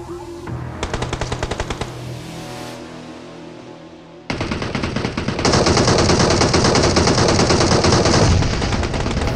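Rapid automatic gunfire in the BGMI battle royale game, fired from a two-storey house nearby, with dense bursts rattling loudly and continuously, then a louder, sustained stretch of heavy firing with no talk.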